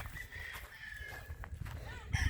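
Chickens at a cool mountain farm with a bamboo coop, faint clucking and a distant rooster crow over quiet outdoor ambience, ending in a louder burst of calls.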